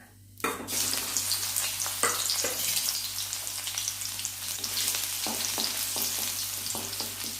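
Ginger garlic paste hits hot oil for a chickpea chaat with a sudden burst of sizzling, then keeps up a strong, even hiss with a few stirring knocks, close by over a faint steady hum.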